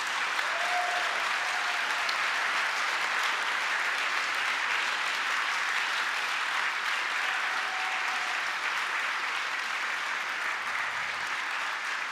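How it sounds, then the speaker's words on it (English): Steady, sustained applause from a large forum audience honoring donors at a nuclear ban event, a dense even wash of clapping lasting throughout with no talk over it. "Can we give a huge applause to our donors?"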